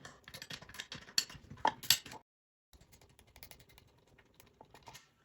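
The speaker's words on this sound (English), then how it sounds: "Now I'm gonna lose the valve nut." The valve nut on a TPMS tire sensor is being loosened with a tool, producing light metallic clicks and rattles in an irregular run, then a brief pause and softer ticking.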